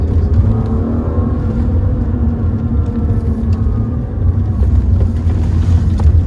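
A BMW E36 with a manual gearbox accelerating hard in first gear, a loud, steady, close-up engine rumble with a rising drone that holds throughout, with no talk.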